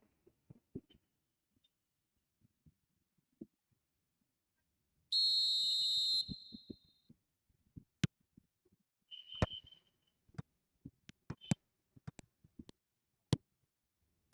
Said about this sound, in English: And the whistle's gone